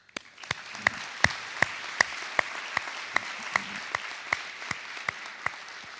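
An audience at a dental school graduation ceremony applauds the returning dean; a few distinct, sharp claps ring out in a slow, spaced rhythm over a quiet hall tone rather than a full ovation.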